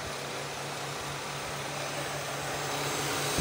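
A Honda CR-V's hot engine cooling fan whirs in a steady, even rush of air, fairly faint and continuous with no voices.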